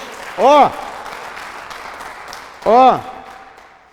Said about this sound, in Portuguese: Então dá um aplauso pela tua vida aí, pelo amor de Deus.